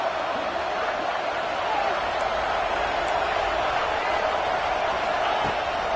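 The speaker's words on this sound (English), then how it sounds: "Guns up, and so is the noise. The crowd electric, trying to help Tech on this 3rd down." Stadium crowd at a Texas Tech football game against Tennessee roars steadily on third down, a dense wash of cheering noise with a play-by-play voice talking over it.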